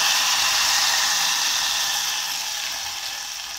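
Chillies and curry leaves sizzling in hot oil for a taro stem curry, a steady broad hiss that holds close and fairly loud throughout, easing slightly toward the end, with no talking.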